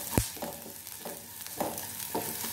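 Onion frying in a pan for a mayo paneer roll filling: a soft, low sizzle broken by a sharp knock at the start and repeated stirring scrapes about every half second.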